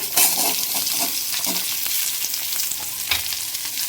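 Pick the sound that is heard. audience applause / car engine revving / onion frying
onion frying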